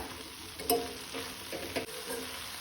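Soft, low sizzle from a cauliflower, carrot and beans sabzi cooking over a low gas flame, with a couple of spatula scrapes against the pan.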